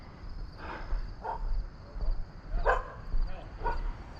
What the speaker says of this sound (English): Vicious attack dog